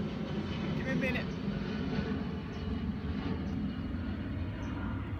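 An airplane flies overhead as a steady, broad engine roar that fills the whole stretch at moderate loudness, with faint speech-like sounds near the start.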